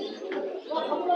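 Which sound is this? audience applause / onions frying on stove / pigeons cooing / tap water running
pigeons cooing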